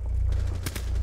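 A single sharp gunshot in Rainbow Six: Siege cracks out briefly over a low, steady background hum.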